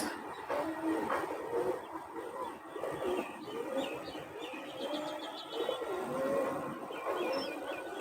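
Pigeons coo softly in repeated low, throaty phrases on an overcast day, with small birds chirping and a faint rumble in the background; no voices are heard.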